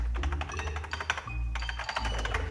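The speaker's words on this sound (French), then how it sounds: "c'était le bruit des claviers de l'époque." Rapid, clattery keystrokes on an old mechanical computer keyboard, steady and close, with a short pause partway through before the typing resumes.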